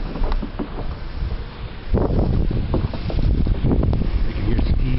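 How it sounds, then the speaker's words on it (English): Strong blizzard wind blows outdoors during a snowstorm, a loud, continuous roaring buffet across the microphone with gusty swells and no speech. "Going outside. We'll look at the blizzard."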